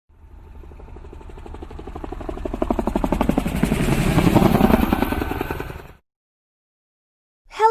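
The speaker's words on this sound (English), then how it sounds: "Helicopter." A helicopter flying, its rotor beating in a rapid, steady chop that swells louder as it approaches, then stops abruptly, with no talk.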